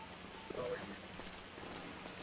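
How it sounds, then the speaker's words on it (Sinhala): Rain falls steadily in a Ceylon RP roleplay video game, a constant close hiss across the whole stretch, with a faint voice briefly audible near the start. "මේ වහිනවා තාමනේ"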